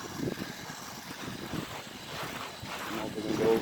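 Wind blows through a garden near sundown, gusty rumbling buffets against the microphone rising and falling, with someone talking over it.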